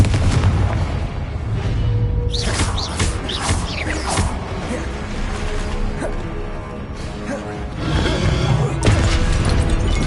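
Spell casts and explosions in Hogwarts Legacy ring out in steady succession, loud booms and crackling magical bursts layered over a constant rumbling game soundscape.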